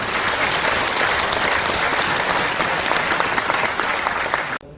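Audience applause at a launch ceremony for the 2022 Yeongju World Punggi Ginseng Expo, loud sustained clapping from a large crowd that cuts off abruptly at the end.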